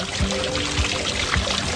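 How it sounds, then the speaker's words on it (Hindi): Water splashing and trickling steadily from a small fountain in a terrace garden, a continuous close pouring sound with some low bubbling. "पानी का फुहारा है, जिसके अंदर फाउंटेन के सामने आपको पानी की आवाज़ भी आ रही होगी"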